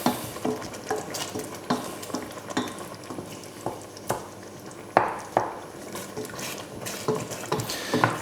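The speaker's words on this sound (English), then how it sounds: "Give that all a quick mix around." Ragu sauce for stuffed pasta shells being stirred in a hot pan, a close rhythmic scraping of spoon against the pan every half second or so over a soft sizzle, with no talking.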